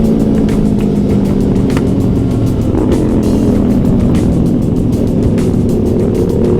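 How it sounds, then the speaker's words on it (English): Motorcycle riding slowly in first gear at barely enough RPM to run without the clutch, a loud, close, continuous low engine drone with rapid pulsing throughout and no pauses. "I'm in first gear right now, and I'm barely at a high enough RPM to keep it going without the clutch."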